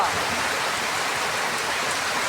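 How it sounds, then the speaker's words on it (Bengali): Steady, dense rain drumming hard on a metal roof, a continuous loud hiss with no pauses and no voices. "বৃষ্টি যেমন টিনে চাল সেদ্ধ বৃষ্টি পড়তেছে এত বৃষ্টি আর বৃষ্টি"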